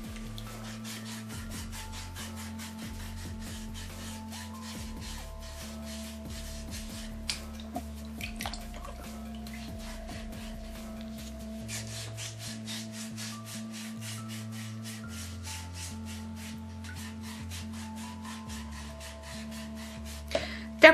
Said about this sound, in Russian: Сидим в воде, то есть ноги в воде, и обрабатываем пяточки, где у вас есть мозольки.